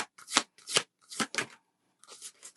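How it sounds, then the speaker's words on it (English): An oracle card deck being shuffled in several quick riffling bursts, close and crisp, separated by short pauses, with no talking. "I'm going to pull you some oracle cards now before we go."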